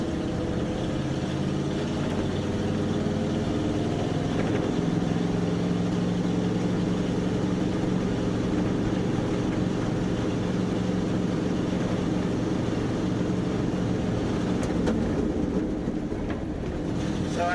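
A 1964 Dodge D300 truck drives along, its engine droning steadily with a low rumble, passing through a double-clutched shift from second to third amid continuous road and cab noise.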